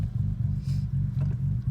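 A Nissan GT-R engine with a lopey, uneven idle throbs in a deep, steady, rotor-like pulse, running close and alone with no talk.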